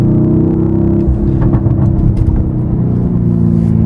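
A Lamborghini Urus Performante drives with a loud, deep engine rumble heard from inside the cabin, steady and smooth with a slight shift in tone partway through.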